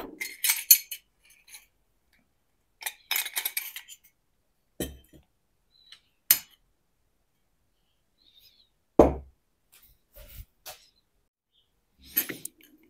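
An oil catch tank separator is taken apart by hand, giving sparse, close clicks, light metallic clinks and plastic rattles separated by quiet gaps, with no talking.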